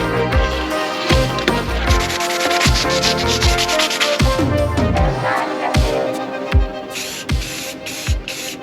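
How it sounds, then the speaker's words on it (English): A raw metal bracket for a moped is sanded by hand, giving continuous scratchy rubbing strokes with irregular thumps and clatter from handling, fairly loud and near, with no talking. "I think I'm gonna go ahead and sand it up"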